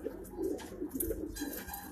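Soft, low pigeon coos repeat through a quiet, slightly noisy background, with a faint rustle now and then.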